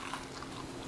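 A single crunchy bite into a crispy home-fried onion ring, brief, close and quiet.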